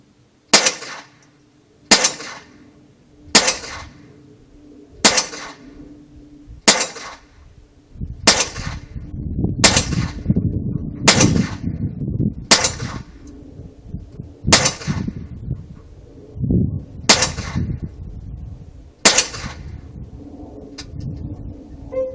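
A series of sharp shots from a Marlin Model 60 .22 LR rifle, about a dozen at steady intervals, each followed by a ringing metallic ping from a distant steel target, the last a miss.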